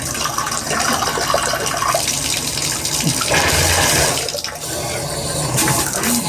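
Water gushes steadily from a Symmons shower valve being tested for leaks after a spindle replacement, a loud, close, continuous rushing spray that shifts briefly in tone partway through.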